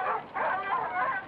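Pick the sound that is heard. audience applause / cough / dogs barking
dogs barking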